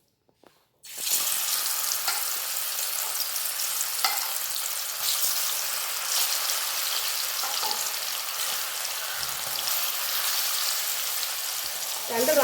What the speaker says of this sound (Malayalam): അപ്പോൾ അതിലോട്ട് മീനിട്ട് നമുക്ക് വറുത്തെടുക്കാം.